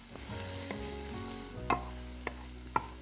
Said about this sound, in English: We add our onions and shallots and cook them for about 3 to 4 minutes until they're soft.